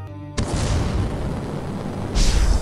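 A cartoon character launches off like a rocket in a sudden loud whooshing blast that roars continuously for a couple of seconds and swells again near the end, close and alone.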